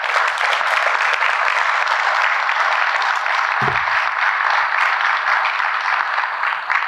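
Audience at a SECO Energy district member meeting applauding employees in the room, a steady, dense round of clapping from many people that holds for several seconds without talk.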